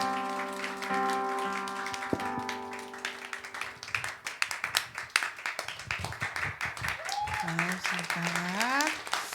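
A church congregation claps in welcome for the pastor's wife, steady applause building under sustained organ or keyboard tones, with a voice speaking over the clapping toward the end.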